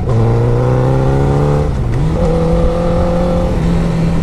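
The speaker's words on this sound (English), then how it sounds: "Let's get into a passing gear and see if we have enough power to pass that car" A 2008 Honda CBR1000RR motorcycle engine revs steadily under acceleration on a hot road, its rising harmonic tone shifting pitch through a gear change midway, loud and close throughout with no talking.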